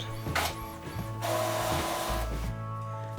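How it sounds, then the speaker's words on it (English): An inkjet printer running a print job on glossy waterslide decal paper, whirring mechanically with repeated carriage passes and short pauses, close and steady throughout with no talking. "I'm going to go back to the computer and set this up and send it over to print"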